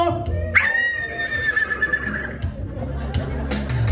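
A horse lets out a loud, shrill whinny lasting more than a second, close by, with people chattering around it and hoofbeats or movement noises underneath.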